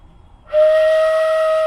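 After a brief quiet moment, a flute's sustained whistle tone starts abruptly and holds steady and loud until the end.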